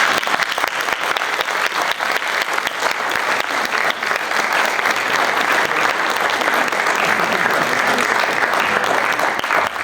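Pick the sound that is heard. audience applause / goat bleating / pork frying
audience applause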